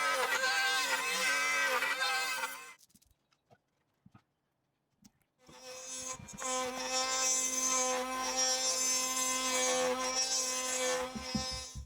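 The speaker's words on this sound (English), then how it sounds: "this one being smaller, I can do that on the bandsaw" A bandsaw cuts a small plywood gear cog, giving a loud, steady whining buzz with a brief quiet gap of faint knocks in the middle before the cut resumes.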